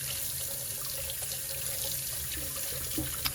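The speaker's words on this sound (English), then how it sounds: "if you need any faucet maintenance with the water running" Water runs steadily from a kitchen faucet into a sink, a continuous close hiss and splash with no pauses or voices.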